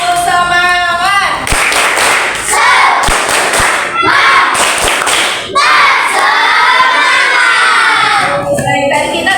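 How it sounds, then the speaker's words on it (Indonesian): Primary schoolchildren in a fourth-grade class perform the 'tepuk semangat' spirit clap chant, a loud, energetic burst of rhythmic clapping, sharp thumps and shouted voices that fills the whole stretch before trailing off. "kita tepuk semangat terlebih dahulu. Oke, 1, 2, 3, tepuk semangat"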